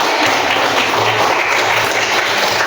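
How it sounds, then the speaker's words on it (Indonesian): Loud, steady applause from a crowd fills the space, a dense wash of clapping with no pauses. "Beri tepuk tangan untuk anak teman-teman."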